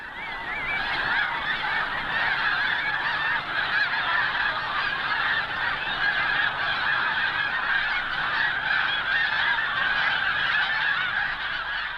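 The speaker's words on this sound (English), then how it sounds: "Lured by the golden grain, the geese start to plane in." A large flock of snow geese honks continuously, a dense, steady chorus of overlapping calls with no pauses throughout.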